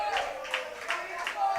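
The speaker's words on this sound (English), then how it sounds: "I could hear that applause coming through" Spectators applauding at a school under-16 cricket match between Naparima College and Presentation College San Fernando, heard as distant rhythmic bursts of clapping across the clip, faint and steady with no voices over it.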